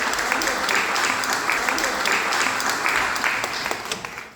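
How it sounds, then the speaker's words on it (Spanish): Audience applause at a national adventure sports gathering, a dense burst of clapping from a seated crowd with some voices mixed in, tapering off at the end. "un aplauso para él"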